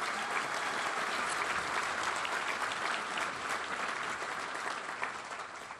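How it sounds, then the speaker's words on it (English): Steady applause from a crowd at a law enforcement awards ceremony, dense and even throughout, tapering slightly toward the end. "A round of applause for our nominees."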